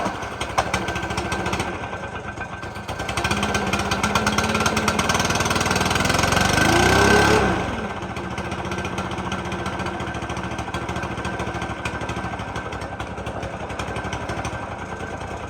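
Stihl BR600 backpack blower, freshly fitted with air filter and housing cover, starts on half choke and runs with a loud, rough engine roar that swells for several seconds, then drops to a steadier, quieter idle.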